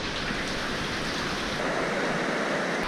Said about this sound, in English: Steep waterfalls.